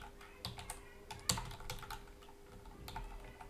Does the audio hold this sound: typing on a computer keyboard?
yes